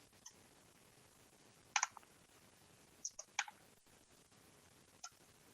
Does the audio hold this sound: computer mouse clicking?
yes